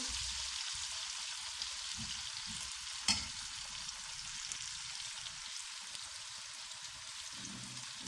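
Potato and eggplant pieces fry in hot oil with a dense, steady hiss like rain on a surface, broken once by a sharp clink, heard up close with no voices.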